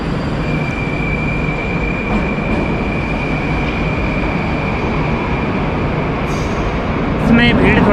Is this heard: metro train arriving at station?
yes